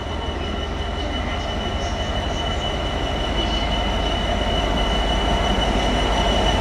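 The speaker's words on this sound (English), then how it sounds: "Look at this, nice GBRF, brand new one as well, new 66." A GB Railfreight Class 66 freight locomotive and its wagons roll past Loughborough station in a loud, continuous rumble with steady wheel noise and faint squeals.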